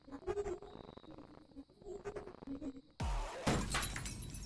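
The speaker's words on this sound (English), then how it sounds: "The bottle shatters, utterly and completely." Glass bottle shattering in a video game: a sudden loud crash bursts in after a stretch of softer game sound and spoken narration, followed by a bright, sustained spray of breaking noise.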